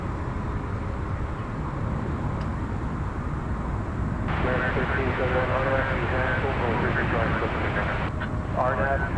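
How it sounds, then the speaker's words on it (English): An American Airlines jet arriving at DFW Airport at night, a steady engine roar in the background throughout, with someone talking over it for most of the time. "In the background, American Flight 2659 arriving from Santa Ana, California."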